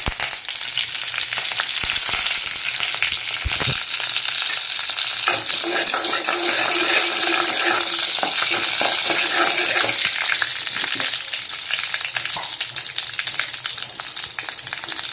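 Mustard seeds, cumin and curry leaves frying in hot oil for tiffin sambar, a loud close crackling sizzle throughout, dense with sharp pops and spatters.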